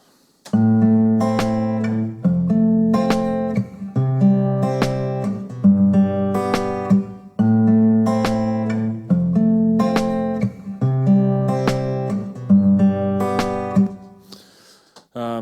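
A constructed electronic beat with a snare drum loops steadily, strong repeating hits and tonal low layers in a regular pattern, loud and without talk.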